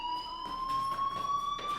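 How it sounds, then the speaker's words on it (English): A school fire alarm in the video game Life Is Strange rings in a shrill, steady electronic tone that pulses in short repeated bursts, moderately loud with no voices. "do you hear that fire alarm?"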